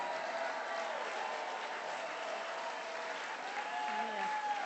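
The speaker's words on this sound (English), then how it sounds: "You can clap for that." Audience at a political gathering in North County San Diego claps steadily throughout, a dense sustained applause with faint voices and a few cheers rising near the end.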